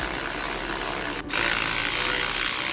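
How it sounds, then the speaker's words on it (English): A power tool spins off the two 17mm caliper bracket bolts on a 2011 Toyota Prius front wheel during a bearing job. It gives a loud, steady whirring noise that drops out briefly midway, with no talking. "I'm just going to go ahead and take these bracket bolts off"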